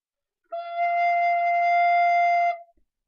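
A recorder sounds a single sustained high F, a clear steady tone held for about two seconds with a clean start and stop.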